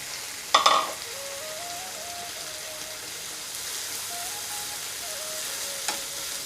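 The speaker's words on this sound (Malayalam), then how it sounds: "നല്ലോണം ഒന്ന് ഫ്രൈ ചെയ്തെടുക്കണം" Dry prawns fry in hot oil in a pan with a constant soft sizzle, opened by a sharp clatter as they are tipped in and followed by a faint tonal beeping over the frying.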